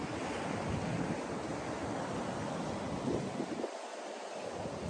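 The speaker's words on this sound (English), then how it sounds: "Look at the beautiful ocean over there." Ocean surf rolls steadily onto the beach at Ko Olina on Oahu, Hawaii, a continuous loud wash of breaking water with wind buffeting the microphone and a brief dip near the end.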